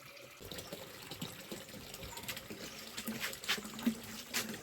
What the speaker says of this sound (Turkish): Önce bir domatesleri yıkayalım.